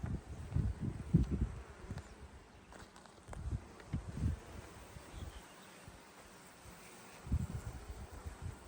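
Honeybees at an open hive while empty comb is added, a faint buzzing hum under intermittent low thumps and handling noises, with no clear talk.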